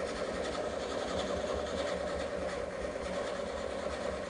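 Wood lathe turning at slow speed while a coring cutter works toward the bottom of a bowl, a steady close mechanical hum and rasp with no breaks or voices.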